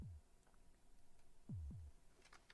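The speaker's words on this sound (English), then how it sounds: "Oh, the heartbeat. This heartbeat. It's going to get fast and it's going to get tense." A heartbeat effect from a pinball video game in Pinball Arcade: deep, muffled low thumps, one near the start and then a close double beat, quiet over a faint steady hum.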